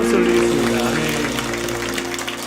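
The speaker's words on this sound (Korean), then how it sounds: "우리 하나님께 영광의 박수 올리겠습니다." Church congregation clapping together during a Sunday worship service, a steady wash of applause over sustained music with strong low tones throughout.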